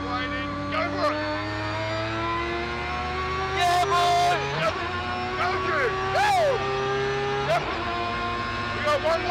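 A 500-horsepower Mazda RX-7 with a 20B rotary engine accelerating hard on a race track, its high whining engine note climbing through the gears with repeated rising sweeps and brief shift breaks, loud and close, people talking over it.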